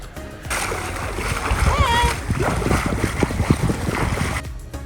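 Splashing from a person swimming in clear, chilly Ionian Sea water off Greece, a steady churn of water close by with wind noise, and voices talking over it.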